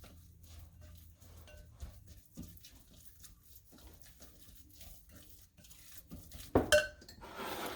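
A utensil quietly mixes grated parmesan into eggplant lasagna ingredients in a bowl, giving soft scrapes and taps, then a sharper clink and clatter near the end.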